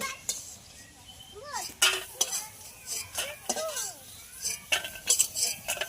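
A metal utensil scrapes and clinks in a pan while fried lentil dumplings are lifted from oil, giving irregular close clatter over a faint background sizzle.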